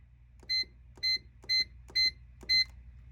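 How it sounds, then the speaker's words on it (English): A bread machine gives five short, identical electronic beeps at an even pace, clear and close against a quiet low hum. "bread machines beep a lot"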